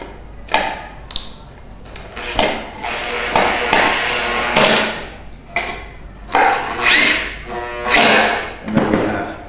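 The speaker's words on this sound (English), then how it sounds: "I'll put the screws in here, into the holes, and making sure we're lined up at the bottom." Screws driven into a wooden bird box with a power driver, several close bursts of whirring and grinding separated by short pauses, with wood creaks and handling knocks between runs.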